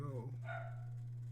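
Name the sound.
dog barking downstairs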